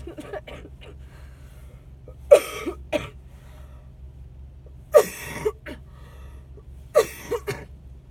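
Three separate coughing fits, each a short harsh burst, spaced a couple of seconds apart over a low steady hum, with faint rustling between them.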